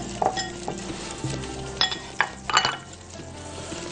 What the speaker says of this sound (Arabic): قلب يا باشا تقليبة محترمة ليها